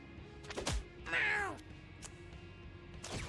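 Cartoonish cat meows from the Mewgenics video game, one clear rising-falling meow in the middle amid a few clicks and thuds from the game, fairly close and alone.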